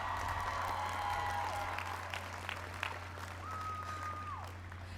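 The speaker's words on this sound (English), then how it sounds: "Give yourselves a round of applause." A graduation crowd at a 2021 high school commencement claps steadily throughout, a dense wash of applause with a faint whistling tone and low hum beneath.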